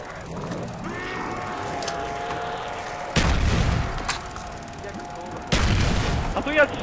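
Heavy gunfire booms at zombies in a video game, two loud blasts standing out over a continuous bed of game noise and music, with players talking excitedly throughout.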